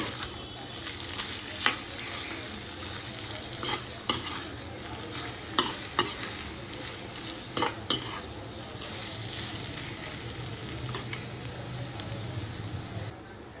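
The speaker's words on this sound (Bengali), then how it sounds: "ঘিটাও আমি সমস্ত মোচার সাথে ভালোভাবে নাড়িয়ে নিচ্ছি।" Ghee is stirred through a pan of banana flower curry with prawns, giving a low continuous sizzle broken by sharp scrapes and clinks of a spoon against the pan, with no voices.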